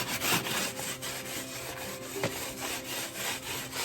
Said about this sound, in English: doing one final scrape